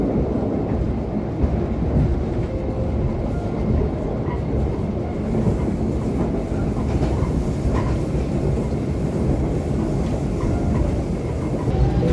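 KA Parahyangan passenger train rolling along the rails toward the Sasaksaat tunnel, a steady, loud low rumble with continuous wheel-on-rail clatter throughout, no voices.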